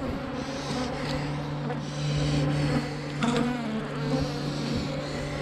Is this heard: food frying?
no